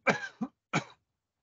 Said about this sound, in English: 4 weeks in and this cough's still there.